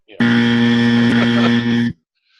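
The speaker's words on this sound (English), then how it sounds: "the buzzer has forced you to break up" A loud, steady basketball buzzer blares for nearly two seconds, a sustained harmonic tone that cuts off abruptly, during a college basketball conference preview broadcast.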